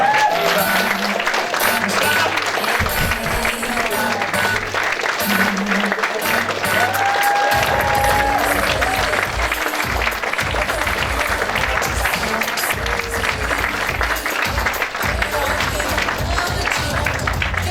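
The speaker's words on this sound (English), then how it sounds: "Give her a big round of applause." Loud, sustained applause and cheering from a seminar audience welcoming a pop singer, with music and a voice over a PA running beneath the clapping throughout.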